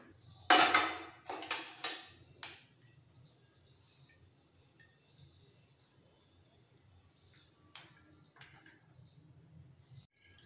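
A metal spoon clanks and scrapes against a metal sieve while mustard paste is strained, a few sharp metallic knocks up front followed by quieter intermittent scraping and rattles.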